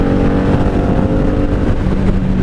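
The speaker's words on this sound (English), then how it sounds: "Can you still hear the exhaust?" A 1997 Honda Magna VF750C motorcycle running on fuel gone bad in its carbs drones loudly while riding on a highway, its low exhaust rumble steady and close, mixed with road and wind noise.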